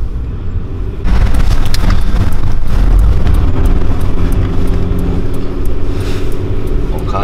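A loud, throaty VR6 engine in a convertible roars up suddenly after a second of quieter rumble, sustained and reverberant inside a tunnel.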